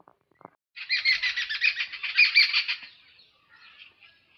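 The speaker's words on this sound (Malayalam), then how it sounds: "ഈ കിളിപ്പണ്ണുങ്ങളെല്ലാം കൂടെ ഈ കീരിയെ കണ്ടുകൊണ്ട് തകർക്കുകൊണ്ടോ." Several birds chatter and squawk loudly at a mongoose in a rapid, harsh burst of calls lasting about two seconds, then quieter chirps follow, close by with no talking.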